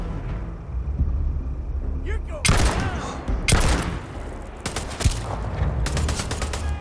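Bursts of rapid gunfire and heavy impacts from a sci-fi shooter game set in space, loud and clustered in several volleys with rumbling between, over a quieter background.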